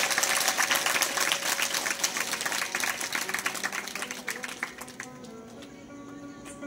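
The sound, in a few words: loud applause for Pralhad Maharaj Ubhale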